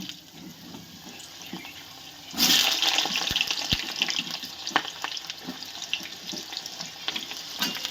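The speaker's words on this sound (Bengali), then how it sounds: "তেলটা গরম হয়ে গেছে, এবার আমি গাজরগুলোকে দিয়ে দেবো" Carrots dropped into hot white oil in a wok burst into a loud, steady frying hiss after a quieter opening, with a few sharp clinks from stirring.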